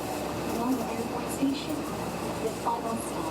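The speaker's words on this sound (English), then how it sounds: "We are taking the monorail from there." Inside the monorail bound for Naha airport in Okinawa, a steady rolling rumble and hum of the car in motion, with people talking over it.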